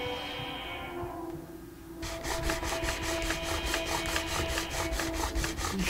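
A hammer strikes during surgery in a video game, with quick, evenly spaced pounding hits repeating steadily after a low tonal hum.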